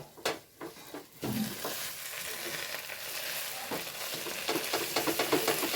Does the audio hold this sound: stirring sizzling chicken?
yes